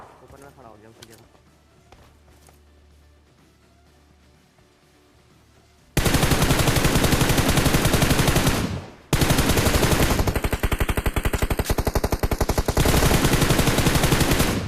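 Gunfire in the PUBG Mobile video game: after a quiet stretch with talk, loud sustained automatic bursts erupt, break briefly, then resume with rapid continuous fire.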